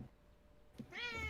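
A domestic cat meows once, close and clear, with a rising harmonic cry after a brief quiet stretch and a small bump, interrupting an online tournament call.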